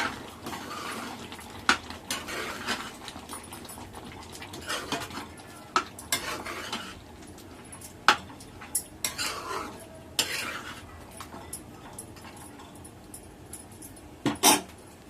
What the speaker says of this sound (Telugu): ఒకసారి ఇలా మిక్స్ చేసుకుందాం